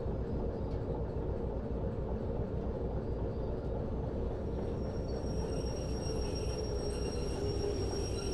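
A locomotive in the Derail Valley train simulation game rolls along the rails with a steady, loud rumble of wheels and carriage. Faint high squeals creep in toward the end.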